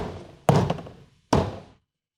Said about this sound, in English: Align the door panel with the clips to secure the door panel.